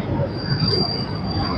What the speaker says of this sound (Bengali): তবে এখানে কিন্তু ট্রেনের স্পিড কমে গেছে